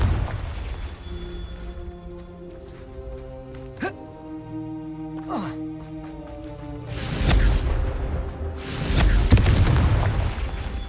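The Confringo fire spell in Hogwarts Legacy, a video game: a couple of thin whooshing casts, then heavy booming explosions that swell loud near the end over a steady low game ambience.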